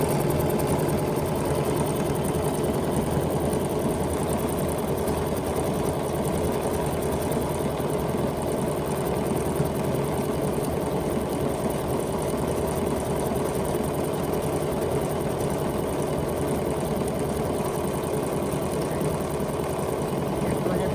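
BERNINA sewing machine running a combination stitch pattern, a steady mechanical whir and rapid needle patter held at an even level for about twenty seconds, with faint talk at times.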